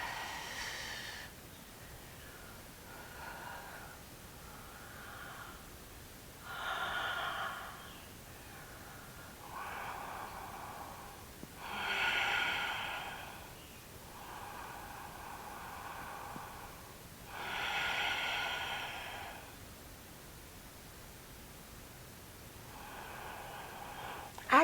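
Slow, deep breaths during a gentle yoga session, each long inhale and exhale rising and fading in soft, airy swells several seconds apart, quiet and close with no talking.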